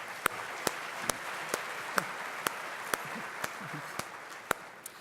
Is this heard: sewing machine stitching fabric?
no